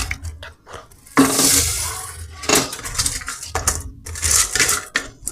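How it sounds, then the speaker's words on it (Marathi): Washed rice tipped into a pot of boiling water while cooking masale bhat, giving bursts of rattling, pattering grains and clatter against the pot in several close, loud pulses. "आपण हे जे मी धुवून घेतलेले होते ते तांदूळ मी त्यामध्ये टाकत आहे."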